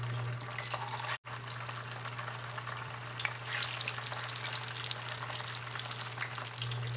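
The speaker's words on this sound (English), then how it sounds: "Time to drop in these potatoes. Got the oil at about 350 degrees Fahrenheit." Potatoes frying in canola oil heated to about 350 degrees Fahrenheit, a continuous close crackling sizzle with a faint steady hum, briefly cut to silence near the start, then bubbling on evenly with no talk.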